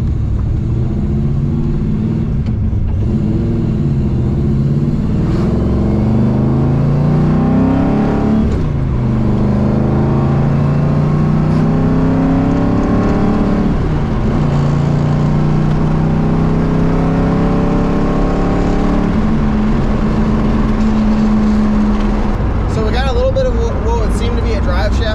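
A barn-find Fox-body Ford Mustang accelerates on its first drive, the engine loud and close as it revs up through gears with steady road rumble and whirring drivetrain noise throughout.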